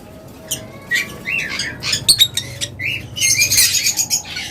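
Caged lovebirds and cockatiels at a bird sale chirp and squawk in bursts of shrill, overlapping calls, close and lively, with a busier flurry near the end and no speech.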